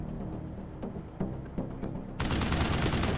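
Machine gun fire in Wasteland 3: a few sharp separate shots, then a sustained dense loud burst of automatic fire that fills the second half.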